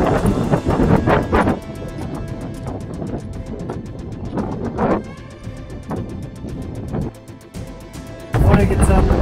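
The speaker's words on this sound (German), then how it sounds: "Heute ist arschkalt und super windig." Strong, cold wind buffets the microphone on an open gravel track in Iceland, a continuous loud roar with surging gusts, heaviest at the start and end, with no speech over it.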